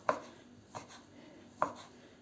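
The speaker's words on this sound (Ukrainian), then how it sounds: "І так дрібонько теж нарізаємо." A knife chops chicken fillet on a board in a kitchen: three crisp, close, separate strikes in an uneven rhythm, with quiet pauses between them.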